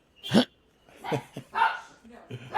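A puppy gives a few short barks and yips, a sharp close bark followed by several softer broken bursts, heard over a quiet room during an interview.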